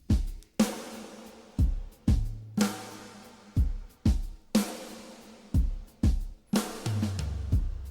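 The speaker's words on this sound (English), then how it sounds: "And then we have our toms." Drum toms from a studio drum session in a music production, struck in a steady run of punchy, resonant hits with deep sustained tails, some pitched lower, heard clearly and alone with no talking.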